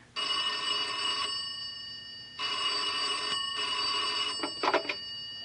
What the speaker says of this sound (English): he waited for the phone to ring